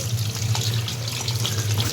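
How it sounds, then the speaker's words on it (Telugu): A steady stream of tap water pours into a sink, close and continuous, with splashing as raw chicken is rinsed under it. "పోసి మంచిగా నీట్గా కడుక్కోవాలి."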